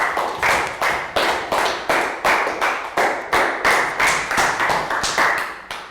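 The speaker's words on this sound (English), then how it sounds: "Round of applause for Pat." Several people in a classroom clap together in a steady, even rhythm, about three claps per second, sustained and fairly close.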